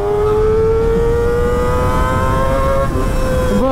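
A Kawasaki ZX sport motorcycle pulls hard in third gear, its engine note a loud, steady high whine that climbs smoothly in pitch before a brief dip and recovery near the end, close and continuous.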